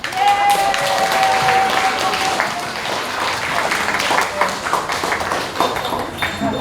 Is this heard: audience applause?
yes